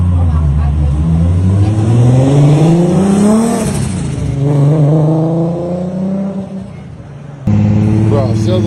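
A Nissan GT-R engine revs hard up and down, rising and falling loudly in pitch across several sweeps, and is followed by a sudden steady, loud drone.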